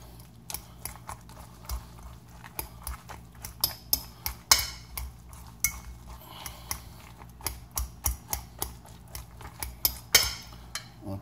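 A utensil mixing chopped bacon and shrimp into a cauliflower patty mixture in a bowl, with a run of irregular close clicks, taps and light scrapes.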